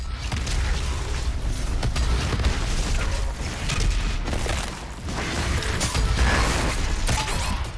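Continuous rumbling booms and blasts of rocket explosions in DOOM Eternal, dense and loud with crackling layers, as in a chaotic game firefight.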